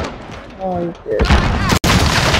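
Gunfire in a video game: a short tonal sound gives way to a sudden run of loud, booming shots that fill the rest of the moment, with one brief drop to near silence.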